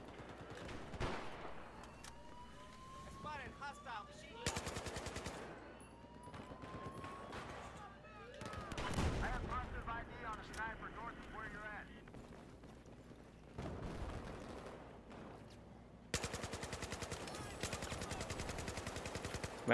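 QBZ assault rifle fire in the multiplayer shooter Battlefield 4, with repeated automatic bursts and scattered distant shots and explosions, while people talk over the action.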